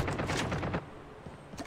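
Gunfire in Call of Duty Mobile rattles in a dense, rapid burst that cuts off abruptly, followed by quieter scattered pops and a brief flare of shots at the end.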